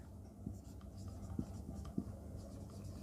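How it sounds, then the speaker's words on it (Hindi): A pen writing on paper during a class 8 maths lesson, with soft scratching strokes and a few sharper taps from the pen tip, faint under a steady low hum. "तो मैं यहाँ लिख देता हूँ"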